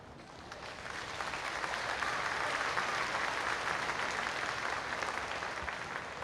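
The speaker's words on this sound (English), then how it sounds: "the applause is still polite" Polite applause from a graduation ceremony audience, a steady wash of many hands clapping at moderate volume that swells slightly and holds evenly, with no voices over it.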